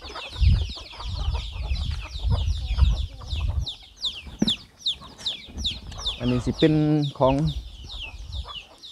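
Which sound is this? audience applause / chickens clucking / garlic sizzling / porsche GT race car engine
chickens clucking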